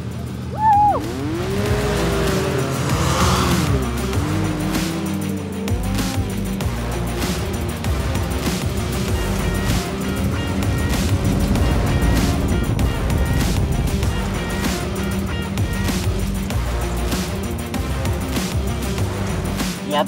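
Side-by-side off-road vehicle driving through sand dunes at a Red Bull Scramble event, with a steady, loud engine drone that rises and falls as it revs, running continuously throughout.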